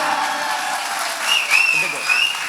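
Continuous clapping from an audience at a temple festival, dense and fairly close, holding steady for a couple of seconds with a few higher whistle-like tones cutting through near the end.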